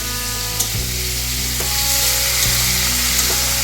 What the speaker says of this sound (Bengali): এতে হলুদ আর নুন দিয়ে মা ভাজা বসিয়ে দিয়েছে।